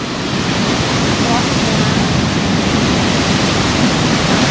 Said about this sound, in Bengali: এই জলপ্রপাতের পাশে এসে দাঁড়ালাম এত আওয়াজ এত পরিমাণে পানির চাপ